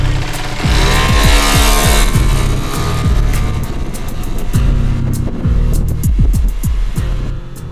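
A 1986 Honda Spree scooter pulls away, its small engine droning with a buzzy pitch that climbs and dips as the throttle opens and eases, loud and fairly close throughout.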